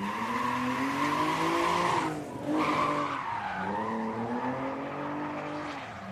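A BMW drift car slides at Gardermoen Raceway during a Norgescup drifting event, its engine screaming steadily with a continuous loud tire squeal that dips briefly midway before surging again.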